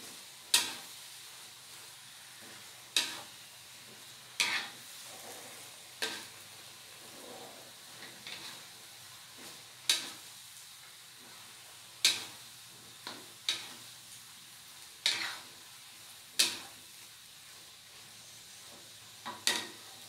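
Mustard greens stirred in a frying pan: a steady soft sizzle runs beneath sharp, regular scrape-and-tap strokes of the utensil, roughly every one to two seconds, close and clear with no talking.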